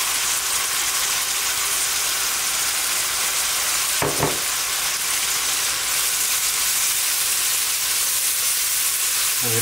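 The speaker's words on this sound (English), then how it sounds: "everything's finished roasting up in the oil, all the spices and everything" Powdered spices, marinade juices and tomato paste fry in hot oil for chicken pulao, giving a steady, close, dense sizzling hiss throughout, broken once by a brief clunk of stirring midway.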